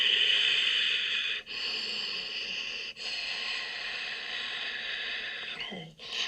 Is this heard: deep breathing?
yes